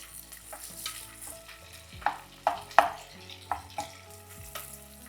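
Sliced large onions frying in ghee for gongura pulao, a steady soft sizzle with several sharp scraping stirs of a spatula against the pan, with no voices.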